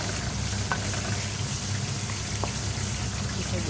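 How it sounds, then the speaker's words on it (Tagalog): Garlic and onion sauté in a pan with a dense, even sizzle that holds steady throughout. Faint stirring sounds come through underneath. "Bawang, sibuyas, ganyan, gisa-gisa."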